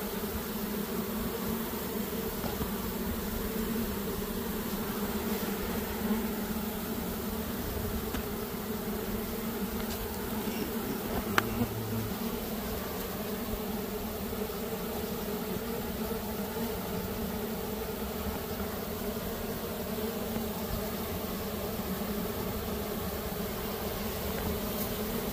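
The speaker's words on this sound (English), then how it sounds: "Well, the bees are running that way." Honey bees during a rescue from a hive with collapsed comb, a steady, dense swarm drone humming close and continuously throughout with no talking.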